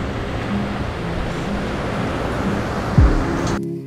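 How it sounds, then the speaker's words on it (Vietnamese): Sea waves at a beach in Quy Nhon, a steady loud wash of surf and wind noise throughout, with a brief low thump near the end. "Biển nhiều sóng còn nguy hiểm hơn."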